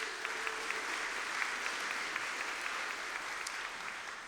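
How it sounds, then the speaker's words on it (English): At an evening lecture event, an audience applauds the program's sponsors, a soft, even wash of many hands clapping that sounds distant and holds steady for several seconds. "So please give them a round of applause."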